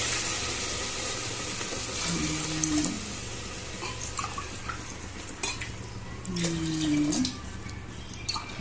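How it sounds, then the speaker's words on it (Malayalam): Water is poured into a pot for egg biryani, making a quiet, steady watery rush with two brief tonal hums partway through. "വെള്ളം ഒഴിക്കാൻ പോവാണ്"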